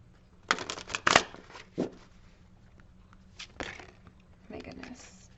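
Shamanic healing oracle cards are shuffled up close in several quick riffling bursts, with pauses and softer rustles between them, while a voice speaks over parts of it.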